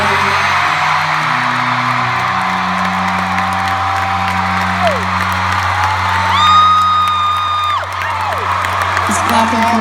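Concert crowd in Anaheim, California cheering and applauding for the drummer, a dense continuous roar of clapping, whoops and yells with sustained tonal voices and cries rising above it.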